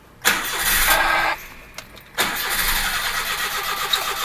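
A mini truck engine being pull-started with the choke on: a loud burst of cranking that stops, a couple of brief sputters, then it catches again and runs steadily.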